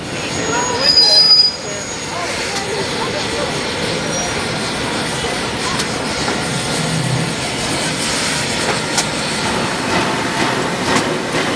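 The metal wheels of steam locomotive Pere Marquette 1225 squeal and screech against the rails as it backs slowly up a street, with a low rumbling engine and distant voices in the background.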